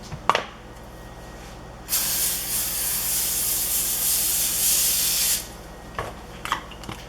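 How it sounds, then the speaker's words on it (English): Cooking spray hissing onto a foil-lined baking tray for oven-baked chicken katsu: a few faint taps, then one steady, loud spray lasting about three and a half seconds, followed by light handling clicks. "we're going to spray with cooking spray"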